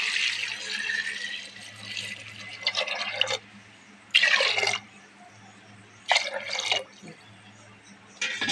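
Water poured into a pressure cooker holding peas and potatoes, arriving as several separate short bursts of splashing with quiet gaps between them and a faint low hum underneath.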